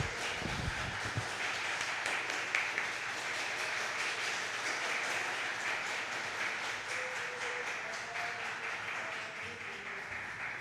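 A church congregation at a public worship service claps steadily in praise, a dense, continuous patter of many hands heard from a distance at low level, with faint tones drifting underneath.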